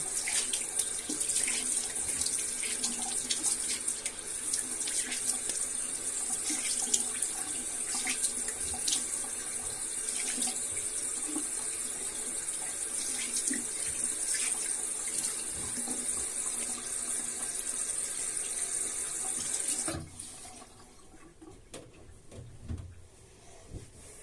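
Bathroom tap water running steadily into a sink while a face is rinsed after a traditional shave, splashing close by for about twenty seconds before the flow cuts off, leaving only faint drips and handling noises.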